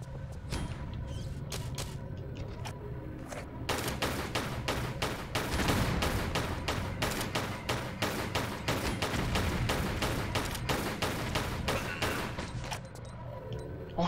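Shotgun fire in the Tomb Raider video game, underground level: a long run of loud, rapid, evenly spaced gunshots, densest in the middle, over a steady low game background.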